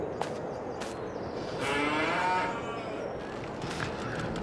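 Cattle lowing on a Farming Simulator 22 farm in winter: a single drawn-out moo rises mid-clip over a steady bed of ambient farm noise, moderately near, with no one speaking.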